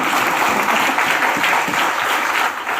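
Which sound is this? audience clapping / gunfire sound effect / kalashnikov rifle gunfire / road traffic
audience clapping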